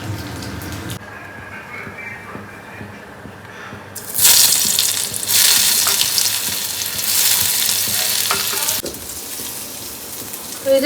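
Prawn sticks fry in hot oil with a steady crackling sizzle that swells sharply louder partway through and stays dense and hissing before easing slightly near the end.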